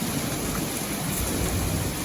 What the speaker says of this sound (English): Thunder and rain.